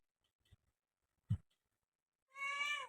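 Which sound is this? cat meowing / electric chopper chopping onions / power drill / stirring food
cat meowing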